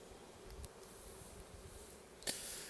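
Honeybees hum in a soft, steady drone during a spring inspection of an apiary hive, with faint rustles and a brief sharp scrape near the end.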